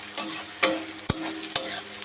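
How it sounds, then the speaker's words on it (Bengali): Onions frying in a pan with a steady sizzling hiss, broken by three sharp clacks of a utensil stirring against the pan. "পেঁয়াজটা ভাজা হোক।"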